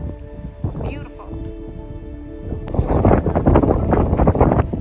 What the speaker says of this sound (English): Got a cold wind up here at the top of the crater.